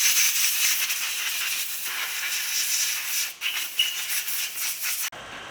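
Compressed air blasting over cleaned Opel Vectra 2.0 engine parts, a loud steady hiss lasting about five seconds with slight fluctuations, cutting off abruptly near the end.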